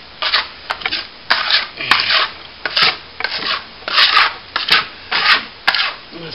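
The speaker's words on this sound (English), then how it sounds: "So just scrape off a bit" Old paint scraped off a calcimine plaster wall during crack repair, a steady series of loud, close rasping strokes, about ten scrapes in an even back-and-forth rhythm.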